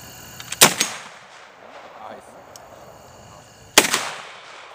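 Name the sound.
gunshots from an AR-15 rifle in .458 SOCOM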